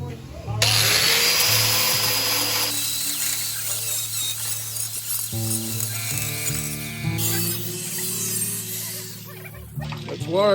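Power drill drilling out spot welds on the bulkhead of a 1964 Series 2a Land Rover, loud, close, whining bursts with grinding metal and pitch shifts as the bit bites, speech mixed in.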